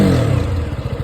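Single-cylinder engine of a KTM Duke 125 BS4 motorcycle revving close by, a loud throaty rasp that settles into a pulsing, steady running note over about a second.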